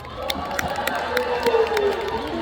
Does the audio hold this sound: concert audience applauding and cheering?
yes